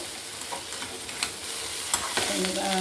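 Stuffed brinjal curry cooking in groundnut oil is stirred in the pan, a soft continuous sizzle with light scraping strokes and a few small clinks, fairly close and steady, no voices.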